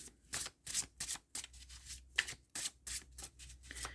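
Astrology cards being shuffled by hand in quick, rhythmic bursts of riffling and rubbing, about a dozen close, crisp strokes with brief pauses between them and no voices.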